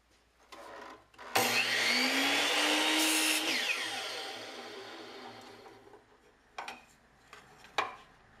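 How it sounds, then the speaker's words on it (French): A miter saw whines up and bites through wood strips in a loud burst lasting a couple of seconds, then winds down, followed by a few clattering knocks. "Tu le fais ici à la scie en onglet"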